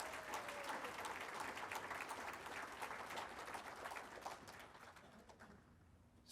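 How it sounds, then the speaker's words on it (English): Round of applause for Bill Murphy at a 2022 RIPIA convention, dense clapping from a room fading out over several seconds, with a faint bird cooing underneath. "How about another round of applause for all the great work that Bill Murphy does on behalf of RIPIA."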